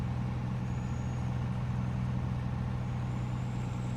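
Truck driving across a farm field in Farming Simulator 19, a steady low engine drone with a faint high whine, continuous and even with no talking.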